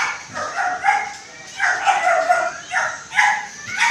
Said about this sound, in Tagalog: tahol ni Tisay parang hindi aso eh